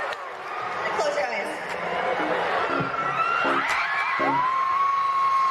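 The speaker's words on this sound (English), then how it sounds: "the crowd cheered loudly" A concert crowd cheers and whoops loudly, with scattered shouts and yells rising over a steady roar, while people talk close by.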